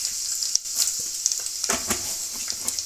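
Peanuts and urad dal roast in a pan, a soft steady sizzle punctuated by scattered scraping and clicking as the spoon stirs them, close up and without speech.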